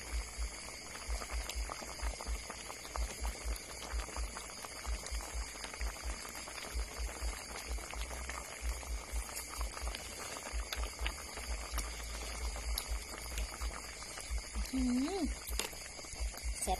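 Sweet bamboo shoots boil in a pot, a close, steady bubbling and pattering that runs without pause, with a brief voice rising near the end.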